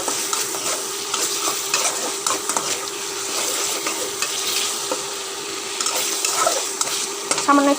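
Stinging catfish sizzles and crackles in a hot frying pan while being stirred, with a steady, close frying hiss and the occasional scrape and clink of a utensil against the pan.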